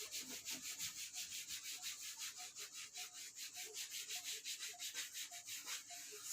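Writing is rubbed off a classroom board in quick, rhythmic back-and-forth strokes, a steady soft scrubbing that runs throughout at low volume with no talking.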